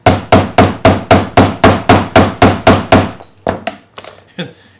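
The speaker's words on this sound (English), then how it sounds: "every time I hit it with a hammer, there's just enough give on the rubber hammer" Rubber hammer strikes a 3D printed Witcher necklace in a steady run of about twelve loud, evenly spaced thunks, then a few scattered, quieter taps and knocks trailing off.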